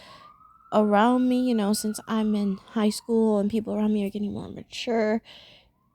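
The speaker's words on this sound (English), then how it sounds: "sorry about the sirens" A siren wails faintly in the distance, its rising tone audible before and beneath a nearby voice speaking steadily.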